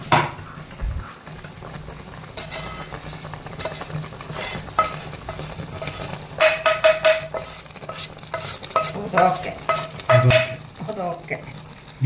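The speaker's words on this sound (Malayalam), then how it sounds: "സവാള വറുക്കാൻ" Onions fry in a little coconut oil in a pan for a chicken roast, with close sizzling under repeated stirring, scraping and clinks of a utensil against the pan in uneven bursts.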